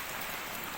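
Rain pours down in rainy weather over a muddy home courtyard, a short, steady and even hiss of drops with no talking.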